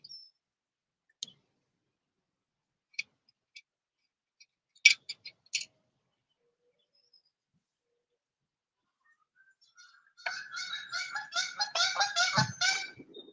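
A goose returning with its mate honks in a rapid, loud run of calls near the end, after scattered sharp clicks and near silence on the water during a kayak outing.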